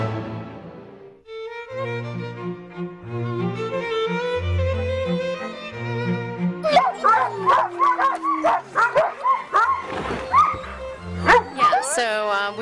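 Sled dogs at the Du Bois dog sled races barking, yipping and whimpering in a close, busy chorus, with voices talking over them throughout.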